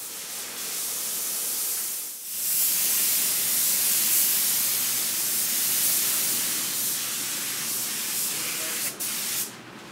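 An aerosol or spray gun dusts a semi-transparent coat onto an art piece, a close, continuous airy hiss with one short pause early on and a brief break near the end.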